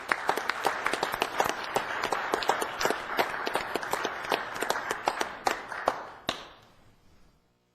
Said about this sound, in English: Give yourself a round of applause for your efforts